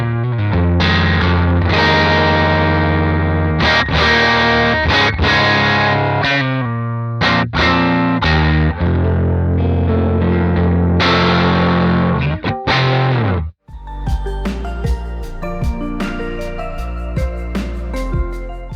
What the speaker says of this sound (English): And there's one more brand new cabinet as part of this CorOS update, and it's called the Match Hefe V3002.